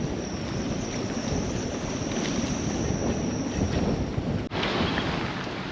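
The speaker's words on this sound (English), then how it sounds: "It's getting pretty windy out there." Strong wind blowing across a harbour at Praia da Vitória in the Azores. It is a steady, loud roar buffeting the microphone, with a brief dropout near the end and no voices.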